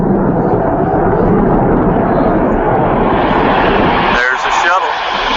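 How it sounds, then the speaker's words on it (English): A landing aircraft's jet engines roar loudly and steadily as a dense, constant rumble, with a brief wavering whine near the end; a voice talks over the noise. "take a listen to those jet engines"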